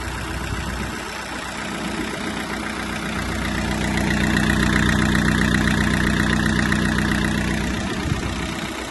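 Diesel engine of a Japanese Mitsubishi MT-26 mini tractor idling close by, a steady knocking rumble that swells slightly in the middle and then settles, with no talk.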